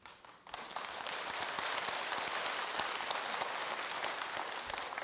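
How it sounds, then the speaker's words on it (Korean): After a brief quiet moment, an audience at a Buddhist dharma talk at Jogyesa temple breaks into sustained, dense applause that stays loud and even to the end. "그래 이 대목에서는 박수 받을 줄 알았어."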